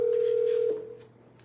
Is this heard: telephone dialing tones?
yes